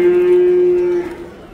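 A cow at a livestock market in Taraz gives one long, steady, loud moo that holds for about a second, then tapers off into quieter market background.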